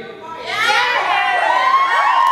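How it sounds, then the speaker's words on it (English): A group of women at a wedding reception screaming and yelling together, loud high overlapping shrieks that swell and carry on steadily. "Ladies, you need to scream and yell and motivate him."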